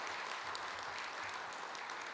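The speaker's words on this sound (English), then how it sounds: "let's do one more round of applause for Jesse" A conference audience at a GNU Radio gathering gives a speaker a round of applause. The clapping is faint and distant, a soft, even patter with no voices over it.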